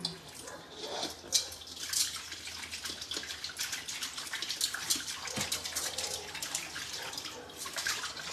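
Water trickles and splashes steadily from a tap with weak supply, a thin running stream with occasional drips and knocks, fairly quiet and close, with no talking.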